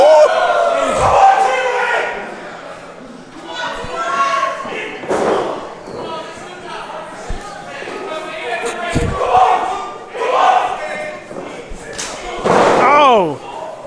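Loud open-hand chops land between wrestlers in a three-way indie match, sharp slaps spaced several seconds apart, each followed by crowd shouts and yells, with a commentator's voice over the noise.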